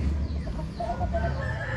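Chickens cluck close by on vaccine day, with several overlapping clucks and short calls over a busy farmyard background.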